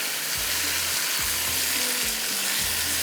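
Ingredients being stirred and mixed while frying in a pan for a white biryani tarka, a loud continuous sizzle with repeated rhythmic scraping strokes of a spoon roughly every second.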